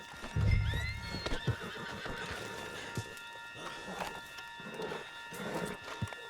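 A horse in the video game Red Dead Redemption 2 lets out a loud whinny, followed by scattered hoof clops and faint thuds against a quiet background hum.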